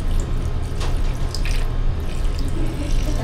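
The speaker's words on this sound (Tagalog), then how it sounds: "isang buhos muna" Liquid pours in a loud, continuous gushing stream during a drink shop's behind-the-scenes shoot, splashing steadily into a container for the full few seconds, with no talk.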